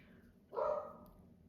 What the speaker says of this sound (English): My dog is barking at the wind outside.